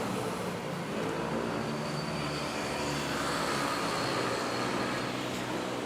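Fixed-wing airliner at the end of the runway at Manila's NAIA airport, rotating hard on takeoff: a steady, broad engine roar holds throughout at moderate, distant-sounding level, with no talk over it.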